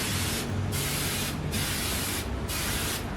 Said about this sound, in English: You don't want to use the spray adhesive